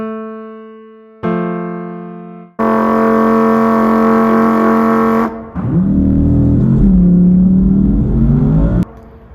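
A human voice imitates an Audi R8 V10 engine revving, producing a loud buzzing, harmonically rich tone that swells and glides in pitch like a revving engine, after a few steady sustained tones.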